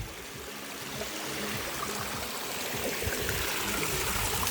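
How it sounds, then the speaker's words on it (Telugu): Flowing stream of the Godavari river near its source on Brahmagiri hill, a steady close trickling and burbling of water that swells slightly after the first second and continues evenly, with no voices. "ఇదే గోదావరి నది."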